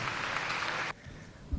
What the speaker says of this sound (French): sous vos applaudissements s'il vous plaît